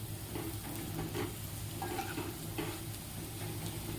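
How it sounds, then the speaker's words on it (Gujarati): Leftover roti pieces stirred in a pan with a little oil over a low flame, a steady soft sizzle under faint scraping stir strokes, close by. "પછી તેને ધીમા ફ્લેમ ઉપર આપણે હલાવીશું"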